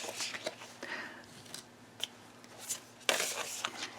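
Animal Spirit Oracle cards are shuffled by hand, giving soft papery riffles and flicks in uneven bursts, fairly quiet and close, with a sharper snap near the end and no talking.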